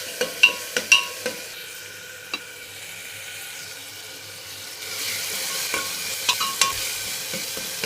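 Ginger garlic paste sizzling in a pan, a soft steady fry broken by a few sharp spatula taps at the start and scrapes later, no voices.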